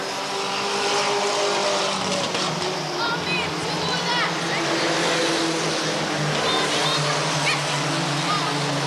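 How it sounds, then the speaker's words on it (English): Mini stock race cars lapping an oval track at Redwood Acres Raceway in 1989, several engines roaring loudly and continuously with occasional tire squeal, under a commentator's talk. "car does not sound real good when he backs off into the turns"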